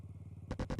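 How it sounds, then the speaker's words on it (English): A motorcycle engine catches after a steady low idle-like turnover, then roars loud and close in a few surging revs with broad rumbling bursts. "She turned on the engine and listened to it roar"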